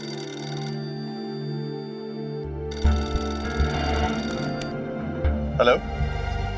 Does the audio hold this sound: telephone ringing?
yes